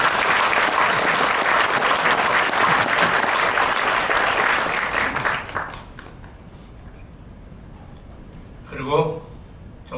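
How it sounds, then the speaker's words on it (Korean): Loud, dense applause from an audience at the founding ceremony of a Korea–US business friendship forum, sustained for about five seconds before fading into quiet room tone, with a brief voice near the end. "여러분 우리 유 원장님께 큰 박수 한번 부탁드립니다"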